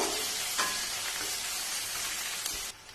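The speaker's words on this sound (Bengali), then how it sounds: "যে পেঁয়াজ কুচিটা রেখেছি সেই পেঁয়াজ কুচিটা এর ভেতরে দিয়ে দিলাম পেঁয়াজটা একটু ভালো করে ভেজে নেব" Chopped onions frying in oil for a fish stew, a bright dense sizzle throughout with a brief stirring scrape near the start and the sound dropping off at the end.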